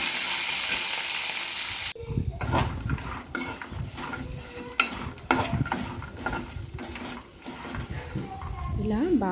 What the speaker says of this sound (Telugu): ఒక రెమ్మ కరివేపాకు వేసుకొని అవి కాస్త క్రిస్పీగా అయ్యే వరకు 1 నిమిషం పాటు వాటిని కలుపుతూ ఫ్రై చేసుకోవాలి